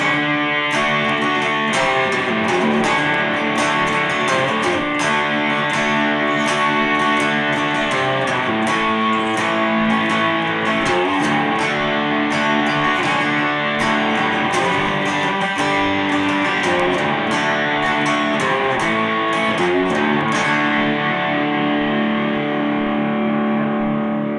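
Distorted electric guitar plays a verse of a song, with loud, sustained chords and rhythmic strums running continuously throughout, no voices.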